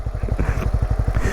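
A Benelli Imperiale 400 motorcycle engine thumps steadily while being ridden, a fast, even single-cylinder pulse heard up close with no talking over it.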